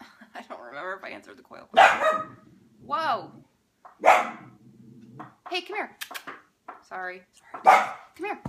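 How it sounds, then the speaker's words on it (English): Dapple dachshund barking indoors in short sharp bursts, loud and close, with someone talking over and between the barks. "Dog's losing it. Sorry for the noise."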